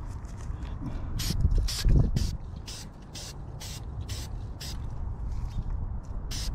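Short hissing bursts from a spray can of oil onto a Yamaha FJR1300 motorcycle air filter repeat in a quick, uneven rhythm, close by, over low rumbling handling noise.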